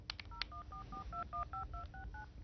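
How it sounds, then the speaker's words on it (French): A voice organizer dialing a phone number, a quick run of about a dozen evenly spaced DTMF tone beeps after a few short clicks, faint against low background hum. "Ça t'a composé le numéro de téléphone."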